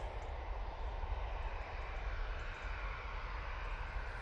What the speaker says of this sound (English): TUI 737 MAX 8 now on the roll.